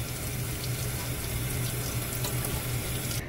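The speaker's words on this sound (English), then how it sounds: "Now I'll just rinse him off real good with some good fresh water." Fresh tap water runs steadily into a sink while a cleaned bluegill is rinsed, a continuous close hiss and splash with no talk.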